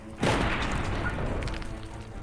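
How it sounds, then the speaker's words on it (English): A large explosion sounds as a tabletop fantasy game scene is narrated: one sudden heavy boom strikes loud, then a long rumbling roar and debris wash fade slowly, with no voices over it. "from the outside, you hear this large explosion"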